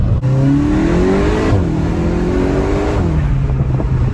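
A 2021 Volkswagen Golf GTI Clubsport accelerating hard, its engine note climbing loud and close through the gears with brief dips at the shifts, and no talk.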